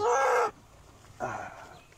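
Rooster crowing nearby in a rural village setting, two separate calls with a short pause between them, loud and clear with no talk.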